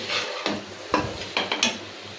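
Beef lung and spice paste stirred in a sizzling pan, a spoon scraping and knocking the pan several times over a steady low frying hiss, close.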